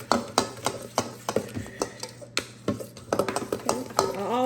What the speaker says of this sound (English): we're just gonna stir it together